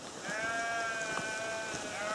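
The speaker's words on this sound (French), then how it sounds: "Ah, les petits moutons charolais" A Charolais sheep bleats in one long, wavering call, close and clear, over an outdoor backdrop of rain and wind.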